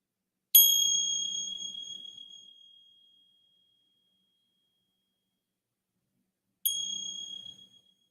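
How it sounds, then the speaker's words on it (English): A meditation bell struck twice, each a bright, clear ring with a sharp onset that slowly decays, the first fading over about two seconds, the second arriving after a long silence. "And then receiving the sounds of the bell."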